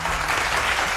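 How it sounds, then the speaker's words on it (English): Brief burst of studio applause on a breakfast radio show, a dense wash of clapping filling the whole second. "A round of applause"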